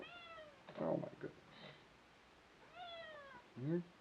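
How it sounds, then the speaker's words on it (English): A house cat meows several times indoors, drawn-out rising and falling cries spaced a couple of seconds apart, with a short exclamation from a person in between. "Meow. Meow."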